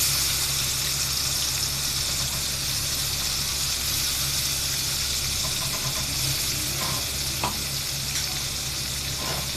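A blended paste of onion, raisins and green chili fries in hot oil for egg korma, giving a continuous loud sizzle with faint stirring and scraping sounds, with no talk.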